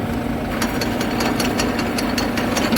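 A New Holland 5620 CRDI tractor engine runs with a rotavator attached, a steady, close mechanical drone with a constant hum and faint ticking rattles throughout.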